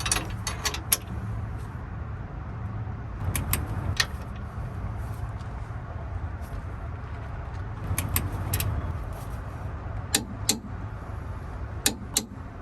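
Several sharp metallic clicks from a torque wrench reaching its set torque on a nut, in small bursts over a low mechanical background hum, close by, with no speech.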